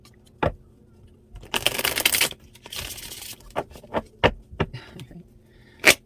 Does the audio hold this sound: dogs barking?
no